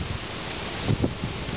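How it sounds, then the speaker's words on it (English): Strong gusting wind during Hurricane Gustav in Gonzales, Louisiana, a steady broadband roar with a couple of brief louder surges near the middle. "The wind is coming from that direction over there. So, really gusting."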